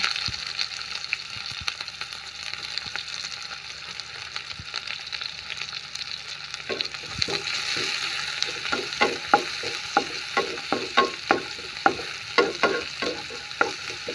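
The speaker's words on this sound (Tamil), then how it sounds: "வெங்காயம் போட்டு நல்லா வதங்கட்டும்" Onions sautéing in a pan for a chicken curry, a soft sizzle at first, then brighter frying with a regular series of sharp spatula scrapes and taps in the second half.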